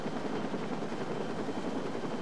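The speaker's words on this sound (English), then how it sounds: "A Metro-Dade air rescue helicopter transported Pat to Mercy Hospital in Miami" A Metro-Dade air rescue helicopter's steady, dense rotor and engine roar fills the whole stretch, loud and close, with no pauses or voices.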